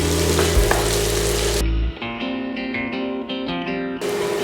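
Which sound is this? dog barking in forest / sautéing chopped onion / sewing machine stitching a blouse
sautéing chopped onion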